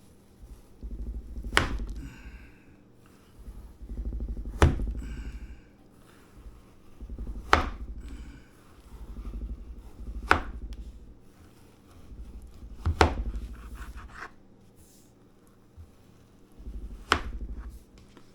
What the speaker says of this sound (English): I'm going to cut it in 2 slices, but I want it to be not that long.